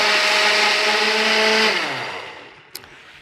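Clafoutis batter whirs in a blender for about a second and a half at a loud, steady pitch, then the motor winds down and stops, followed by a single brief click.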